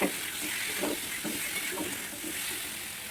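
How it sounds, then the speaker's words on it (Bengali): Onions frying and being stirred in a pan for egg curry, a soft continuous sizzle with faint scraping stirs, fairly quiet and steady. "আবার একটু নাড়াচাড়া করে নেব, একটু ততক্ষণ লাল লাল ভাজা হোক।"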